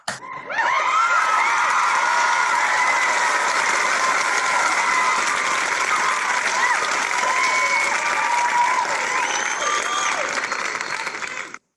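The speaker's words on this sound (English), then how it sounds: "Let's give this couple a round of applause." A large audience breaks into sustained, loud applause with some cheering for an honored couple at a Citizens of Achievement ceremony, the clapping steady and dense throughout before cutting off near the end.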